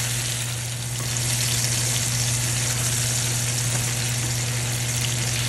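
Small pieces of tofu frying in hot oil for pancit luglog: a loud, steady, close crackling sizzle that continues unbroken, with no voices.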